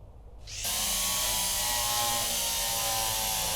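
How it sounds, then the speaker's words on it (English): A drill grinds into a high voltage box in the Derail Valley train simulation game, starting with a brief rattle and then a sustained loud buzzing whine. "I'm sure it's fine to drill into a high voltage box."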